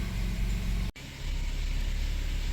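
A car engine idling steadily after a fresh set of spark plugs, a close, even hum broken by a brief dropout near the start before running on smoothly.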